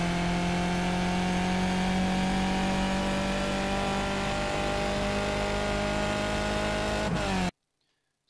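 A race car's engine held at full throttle on the Sebring circuit in the iRacing sim, a steady, loud, high-pitched drone with slowly rising pitch that cuts off abruptly into silence just before the end.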